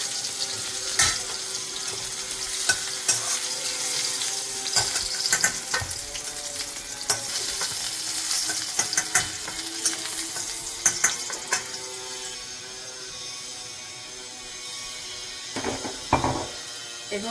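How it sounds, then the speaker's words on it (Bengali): Whole cardamom pods, cloves and cinnamon frying in hot oil for a Bengali potol paneer dish, a steady close sizzle with scattered pops and clinks running throughout, with no talking. "এর মধ্যে আমি তেলের মধ্যে 2টো এলাচ, 2টো লং আর দারচিনি দিয়ে দিলাম।"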